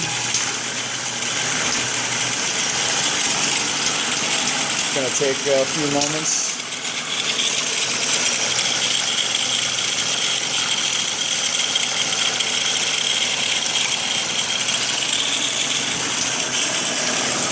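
A small engine runs steadily on a benchtop hybrid rig, its speed cycling against an electric motor, producing a constant mechanical whir with a brief rising tonal sweep near the middle while someone speaks.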